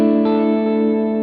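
Electric guitar through an HX Stomp with time-based delay rings out as a sustained, bright chord, its repeats blending behind plenty of dry signal, loud and steady with no talking.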